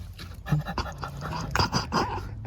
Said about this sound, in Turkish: Burada köpeğimiz.